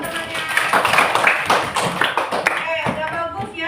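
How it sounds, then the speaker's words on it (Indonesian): Children in a classroom clapping for a classmate, uneven bursts of hand claps and taps close by, mixed with young voices talking over them. "Tepuk tangan buat temannya."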